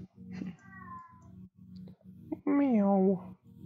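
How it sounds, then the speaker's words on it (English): An indoor cat gives a drawn-out, mournful meow close by, after a fainter earlier cry, with a low rhythmic background hum. "I have a very sad cat."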